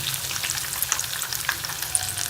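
Potato balls deep frying in oil make a dense, even crackling sizzle with faint bubbling pops, close and continuous over a short stretch.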